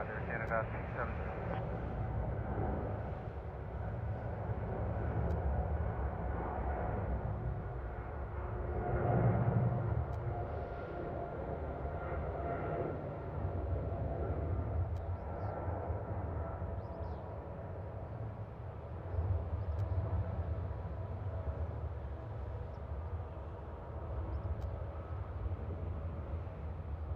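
An Air Canada Boeing 777 airliner rolls down the runway at Toronto, heard as a steady, distant low engine roar that swells slightly midway, with a radio voice talking over it.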